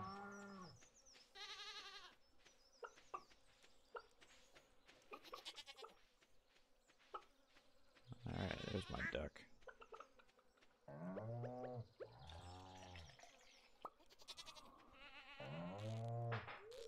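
Farm goats in the Stardew Valley video game bleat several times in short wavering calls over soft background game tones, with no talking.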